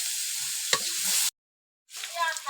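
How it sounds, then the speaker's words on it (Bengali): Onion paste frying with spices in a pan gives off a bright, hissing sizzle with a quick scrape, cut by a brief silence before the sizzle returns, close and alone. "পেঁয়াজ বাটা। হ্যাঁ, পেঁয়াজটা ভালো মতো কষাবো।"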